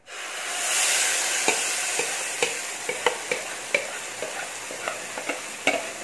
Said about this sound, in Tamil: நீளமான கரண்டி வச்சு கிளறிக்கணும்.